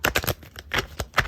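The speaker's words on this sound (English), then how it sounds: "Let's go ahead and get a good shuffle." Tarot cards riffled and shuffled by hand in a few quick bursts, crisp papery flutters with short gaps between them, close up and fairly quiet.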